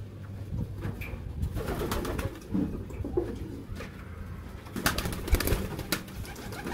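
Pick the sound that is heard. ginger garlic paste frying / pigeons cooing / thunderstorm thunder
pigeons cooing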